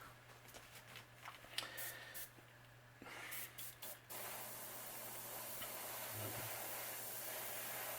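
An airbrush sprays paint onto a bluegill crankbait in short bursts of soft hiss, then a longer continuous spray, faint and close over a steady low hum.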